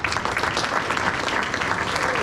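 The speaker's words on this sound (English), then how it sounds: "let's give the Coach's Cup and a round of applause to Bill Graham." Banquet guests break into brief, dense applause at an awards and recognition dinner, a steady wash of clapping from a roomful of people lasting a couple of seconds.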